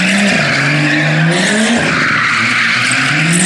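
BMW M2 doing burnouts on a Warsaw street, its tires shrieking in a loud sustained squeal with rising and falling pitch over the roaring engine, close and alone.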